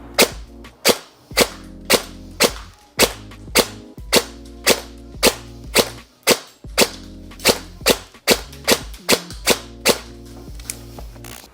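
A G&G SGR-556 airsoft electric rifle fires on an indoor range, loud sharp cracks in a fairly steady rhythm of single shots and quick pairs, about two dozen in all, with no talking.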